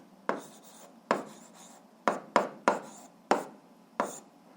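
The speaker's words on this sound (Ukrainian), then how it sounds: "а зараз записуємо відповідь, пишемо відповідь" A pen writing an algebra answer by hand on paper, seven short sharp strokes with quiet pauses between, close and alone.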